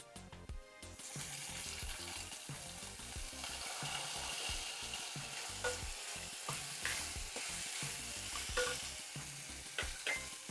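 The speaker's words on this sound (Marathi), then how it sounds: "त्याच्यामध्ये आता आपल्याला थोडा टोमॅटो घालायचा आहे." Tomato is added to onions frying in a pan and stirred, producing a steady sizzle under repeated clattering scrapes and knocks of the spoon against the pan, close and fairly quiet.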